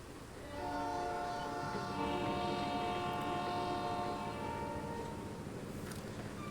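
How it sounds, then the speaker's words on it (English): A model train rumbles past with a steady, humming drone and sustained tonal whine, swelling briefly and then easing off; no voices. "let's take our train down the line"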